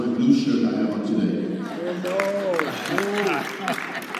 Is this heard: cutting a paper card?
no